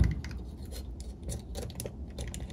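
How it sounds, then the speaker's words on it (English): Blade snipping and slicing through the rubber U-joint bellows on a Mercruiser Alpha One Gen 1 outdrive, a quiet series of short crisp cuts and scrapes heard close by with no talking. "and again, I'm just cutting the entire bellow."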